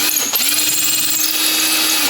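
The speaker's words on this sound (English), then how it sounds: "the drill bit's wanting to pull itself into the hole" Close, loud, high-pitched whine of a power drill boring into sculpture material for a 1/6 scale Predator figure, running steadily for about two seconds after a brief stutter at the start.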